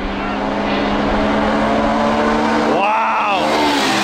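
2022 Polaris RZR Pro R and 2021 Can-Am Maverick X3 Turbo RR side-by-sides launch hard off the line on a closed drag course, a loud steady engine roar with a passing whine sweeping through near the end, voices faintly beneath.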